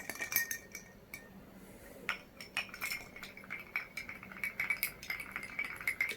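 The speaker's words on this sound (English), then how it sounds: "So let's give them all a bit of a stir." Spoons clinking and swirling in glasses of Penderyn Madeira-finish whisky, a quiet run of rapid light chinks and rattles, close with no talking.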